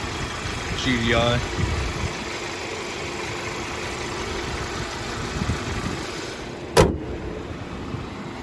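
Engine of a 2013 Hyundai Sonata with a GDI engine idling in an open engine bay, a steady close hum running throughout, with a voice speaking briefly near the start and a sharp click later.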